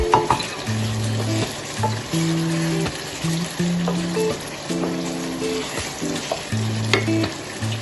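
Mutton sautéing in oil in a pot, a steady loud sizzle with stirring clatter, and a low tonal hum running in intermittent stretches underneath, heard up close without speech.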